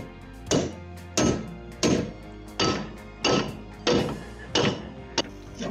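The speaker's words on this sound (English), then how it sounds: "we're gonna have to call in our dear friend, Mr. Hammer, this time in the form of a rubber mallet" Rubber mallet pounding a seized car axle during a clutch replacement, seven heavy, evenly spaced thuds with short ringing tails, loud and close with no talking.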